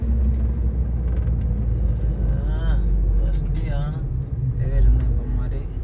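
A vehicle rumbles steadily along a country road through German farmland, a low engine drone throughout, with people talking over it inside the cab.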